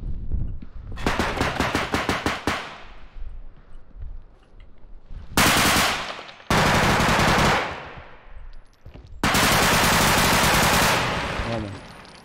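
Loud bursts of rapid automatic gunfire in several long volleys, with sharp single shots and brief quieter gaps between them.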